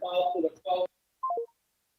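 A telephone line produces a short burst of electronic tones after a caller hangs up on a sports talk radio call-in show. Voices are heard first, then three quick descending beeps follow in isolation.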